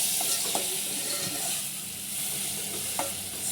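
Chopped tomatoes hit roasted onion in a hot pan for a Malvani-style chicken curry, giving a steady close sizzle with a few sharp stirring clicks from the spoon.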